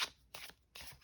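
Major arcana tarot cards are shuffled by hand in short, papery riffling bursts separated by brief pauses, quiet and close.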